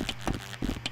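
Horse hooves in a horse race inside the video game Rec Room, a quick close clip-clop of a few hoofbeats lasting under a second.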